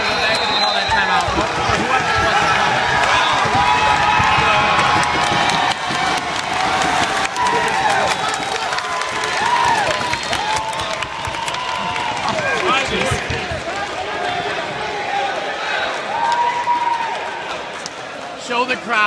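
Crowd noise at a college scrum match (MSU vs. VCU, national round of 16): a steady, loud roar of spectators cheering and shouting throughout, with an announcer talking over it.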